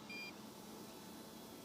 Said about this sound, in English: we've got a low battery warning alarm